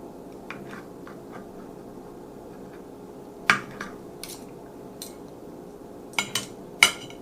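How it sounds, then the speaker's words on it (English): A knife chops trimmed fat from corned beef on a board, giving a handful of sharp, irregular knocks that are spaced apart and stand out against a quiet kitchen background. "This is the fat I have taken off. I'm just chopping it to downsize it"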